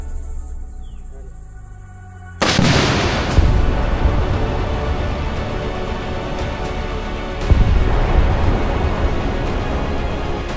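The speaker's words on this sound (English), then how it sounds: "we're using fruit sandwiched between explosives to simulate a dense liquid explosion next to the gauge" Explosives detonate a pineapple sandwiched between charges next to an industrial process gauge during an outdoor test. There is a sudden, very loud blast with a long roaring rumble, then a second heavy burst a few seconds later.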